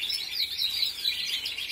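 Small birds being fed watermelon chirp in quick, high, overlapping tweets, close and fairly faint, running continuously through a brief moment.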